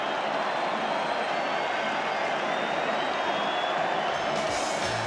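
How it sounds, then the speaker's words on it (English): Stadium crowd cheering at a 1983 State of Origin rugby league match, a dense, steady roar of many voices sustained throughout at constant loudness, with no single voice standing out. "Oh, listen to the crowd."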